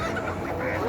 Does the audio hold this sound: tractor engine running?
no